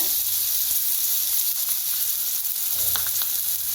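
Green chilies roast in a hot pan, giving a steady close sizzle with faint crackles and a few sharp pops near the end, no voices.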